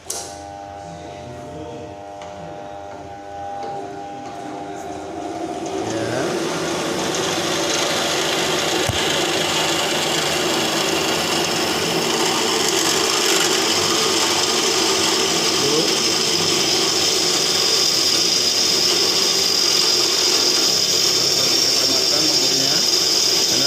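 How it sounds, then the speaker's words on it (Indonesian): A power drill bores into a workpiece with a fitted drill bit, a loud sustained whirring grind that builds after a few seconds and runs steadily to the end. "cara dia mengebor itu dia paskan dulu mata bornya dengan yang mau dibor"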